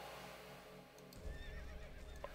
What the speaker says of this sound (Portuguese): Eles andando de cavalo.